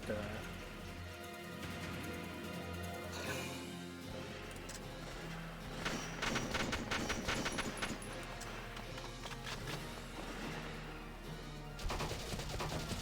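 Machine gunner firing during video game combat, rapid bursts of automatic gunfire layered over dense battle noise and music, with a louder burst near the end.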